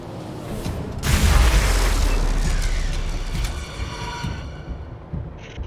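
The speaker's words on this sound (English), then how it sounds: "the robot sputters to life. It turns a cold, unfeeling optical sensor towards you, and its weapons spin" A robot sputters to life in Wasteland 3, a heavy booming rumble that swells, then settles into grinding mechanical whirring as its weapons spin, fading with a short high whine near the end.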